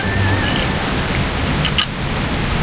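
Steady rain in the open-world video game Where Winds Meet makes a dense, even hiss of falling water with scattered faint pattering, heard alone without talk.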